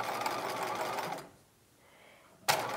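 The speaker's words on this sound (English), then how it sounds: "And I'm stitching slightly to the left" A sewing machine stitches the hem of a 1950s-style halter dress, running in a fast steady whir, pausing for about a second, then starting again abruptly.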